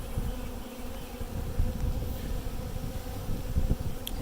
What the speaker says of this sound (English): This is a really healthy hive.